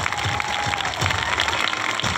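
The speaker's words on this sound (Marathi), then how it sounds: "आता तरी जोरदार टाळ्या वाजवल्या पाहिजे" Loud, dense applause from a crowd at a school science exhibition continues without a break, with a few raised young voices mixed into the clapping.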